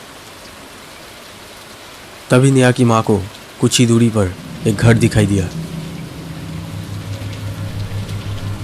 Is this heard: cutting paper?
no